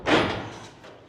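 A car door on a custom-built vehicle being unlatched and yanked open in a garage, giving one sharp mechanical clunk followed by a fading rattle, close and fairly loud with no talk.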